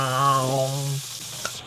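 Pork chops cut from pork loin sizzle in a skillet under foil with the heat just turned off, a steady close frying hiss beneath a brief low hum that fades after the first second.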